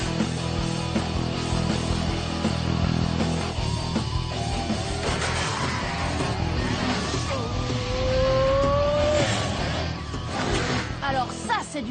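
Engine of an old mini grand prix racing car droning continuously at close range in a race, with a rising whine and music or effects layered over it.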